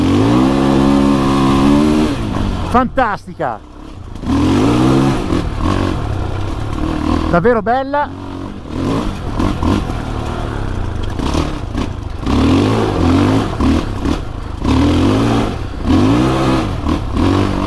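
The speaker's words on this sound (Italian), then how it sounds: "Sentite il motore, tocco il gas e schizza via subito" Fantic Caballero 500 Rally motorcycle engine revving with quick throttle blips and rising pitch, close by and mixed under someone talking throughout.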